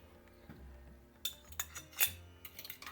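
Beaten eggs, milk and vanilla essence being mixed in a bowl, giving a quiet run of clinks and taps of a utensil against the bowl, with several sharper scrapes and knocks toward the end.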